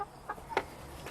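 Backyard chickens giving a few soft, short clucks, faint and close, with quiet outdoor ambience around them.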